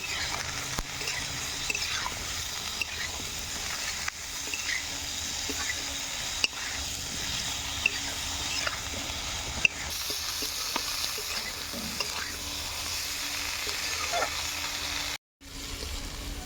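Eggplant pieces fry in hot oil with salt and turmeric, a dense continuous sizzling hiss that holds steady and loud for the whole stretch, with only faint stirring ticks and one brief dropout near the end.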